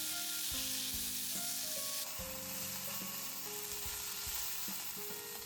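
Carrot and konnyaku being stirred in a hot pan for a simmered hijiki dish, with a steady close sizzle and frying hiss under repeated spatula scrapes and stirring knocks.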